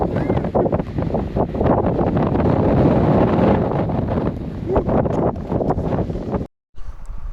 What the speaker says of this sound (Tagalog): Parang may sunstorm sa sobrang lakas ng hangin dahil nga pa-winter na.